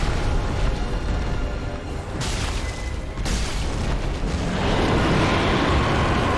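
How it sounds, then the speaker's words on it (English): An explosion in the video game Dark Souls 3, a dense, loud roaring blast that rumbles on for several seconds, with the rush of noise surging again midway and sustaining to the end. "Explosion."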